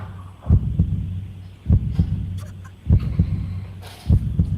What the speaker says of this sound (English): Heartbeat.